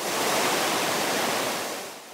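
The high, fast-flowing Provo River near Bridal Veil Falls rushes in a dense, continuous roar that fades slightly at the end.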